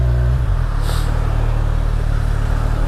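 Kawasaki Z1000 Blackwidow motorcycle exhaust, a loud steady engine drone with a deep low rumble that shifts slightly near the start, then holds an even, close idle-to-rev tone throughout.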